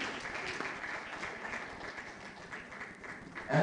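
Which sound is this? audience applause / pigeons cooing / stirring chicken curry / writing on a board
audience applause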